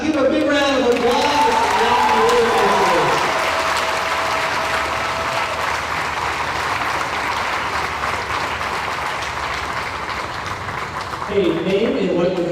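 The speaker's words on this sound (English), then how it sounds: "give a big round of applause" Crowd at a county fair royalty contest breaks into loud, sustained applause, clapping continuing for around eleven seconds, with a voice speaking over the start and again as it fades.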